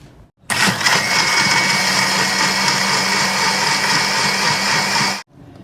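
An electric kitchen mixer blends curd with curry leaves, green chilli, ginger and water, whirring loudly and evenly for about five seconds before cutting off abruptly, with no talking.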